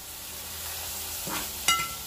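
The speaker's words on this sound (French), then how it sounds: "vous mettez les 300 g d'oignons dans cette huile-là. Vous laissez un petit peu dorer." Onions frying in oil in a non-stick pan, a faint, even sizzle with a brief stir and a small clink near the end, no voices.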